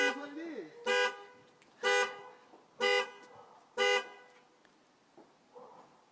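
A car alarm blares on New Year's night amid smoke, sounding four loud, evenly spaced honk-like blasts about a second apart, with quieter background noise between them.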